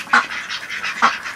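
Ducks housed in a garden greenhouse quack twice, a second apart, clear and fairly close, with softer murmurs and rustling between the calls.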